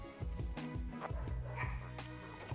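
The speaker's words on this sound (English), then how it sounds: "So I am going to let the dogs in, because it's really hot outside." Several dogs are let in out of summer heat, giving short yips, whimpers and a few barks close by over a couple of seconds with no talk.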